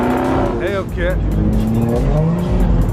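Dodge Hellcat tires squealing at a Mopar meet of Chargers and Challengers, a loud continuous screech over a roaring engine, with crowd voices and shouting mixed in.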